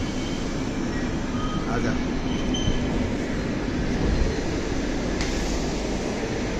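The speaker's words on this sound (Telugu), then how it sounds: "మా ఇద్దరి కోసం ట్రైన్ ఆగని చోట ఆపేశారు" A passenger train halts at an unscheduled spot during a railway inspection trip, giving a loud, steady rumble and hiss of carriages throughout, with a short spoken word partway in.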